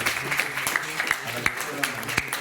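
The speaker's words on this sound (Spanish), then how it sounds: "le vamos a dar un aplauso" An audience at an academic talk on a Mariano Azuela novel applauds Dr. Teresita Quiroz as she receives a certificate; scattered claps sound under a speaking voice.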